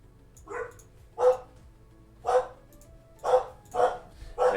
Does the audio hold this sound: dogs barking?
yes